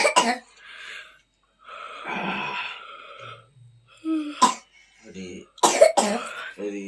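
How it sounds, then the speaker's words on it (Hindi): A few harsh coughs and throat-clearing bursts, close by, scattered among breaths and quieter vocal sounds. "खांसी आने लगी।"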